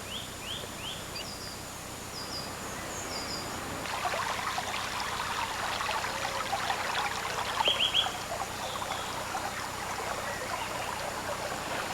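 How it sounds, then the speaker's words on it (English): The Cadoxton River in the Vale of Glamorgan flows beneath an old stone bridge as a steady, even rush of water that swells slightly partway through, while a few birds chirp briefly in the background. "leaving the Cadoxton River to flow along its natural course under the old stone"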